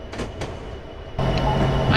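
Freight train with locomotives running in the Train Sim 2015 video game, a steady rumbling rail drone that swells louder partway through, with a sustained low hum and faint clanking.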